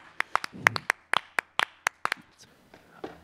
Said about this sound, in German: Ein Applaus für die Cheerleader!